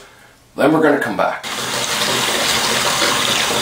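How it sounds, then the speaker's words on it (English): Hot water runs from a tap into a bathtub holding beer bottles set to soak for delabeling, a steady broadband rush that starts abruptly and continues to the end, with someone talking over the opening moments. "So I'm going to fill this up with hot water now."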